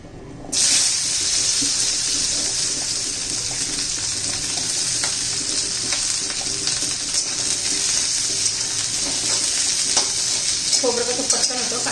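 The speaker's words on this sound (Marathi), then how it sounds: "आता कांदा घालून घेऊया" Onion hitting a pan for egg curry and frying in a loud, steady sizzle that starts abruptly and holds evenly, with faint stirring near the end.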